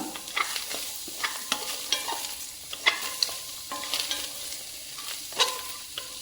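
Cumin and coriander frying in hot oil for a pea and potato curry, a close steady sizzle broken by frequent scraping and clinking stirring strokes.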